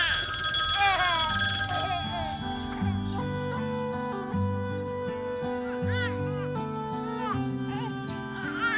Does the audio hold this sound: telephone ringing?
yes